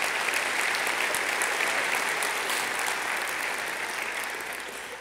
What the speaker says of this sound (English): A round of applause for the Port of Long Beach.